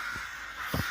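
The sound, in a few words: crows cawing in trees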